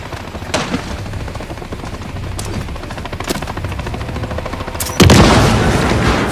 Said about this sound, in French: Hélico en visuel.